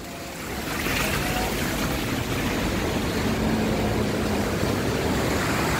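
Steady rushing, sloshing water noise with a wash of wind, continuous and fairly loud throughout, like wading through deep flood water on a street outdoors.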